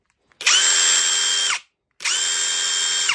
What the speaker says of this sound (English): electric power wrench